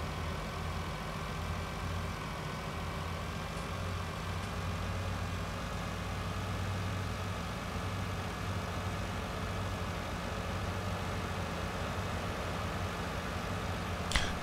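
A truck engine drones steadily in Landwirtschafts-Simulator 19, a low, even rumble close by that holds unchanged for the whole stretch, with no talk over it.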